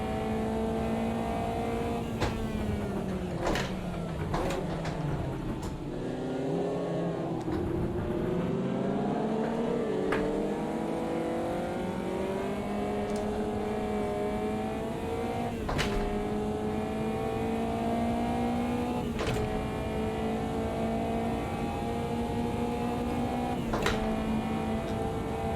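A race car engine in the Automobilista 2 VR racing sim video game, running continuously and loud with rising revs, sharp gear shifts and a drop-off then climb around the middle, with no talk.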